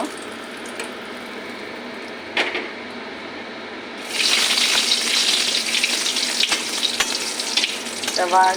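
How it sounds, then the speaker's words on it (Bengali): Bay leaf and dried chili drop into hot oil in a wok and start to sizzle. A quiet background hiss gives way to a loud, steady frying crackle that carries on close by, with a few sharp pops. "কড়াইতে তেল গরম হয়ে গেছে তেজপাতা শুকনো লঙ্কা দিয়ে দেব"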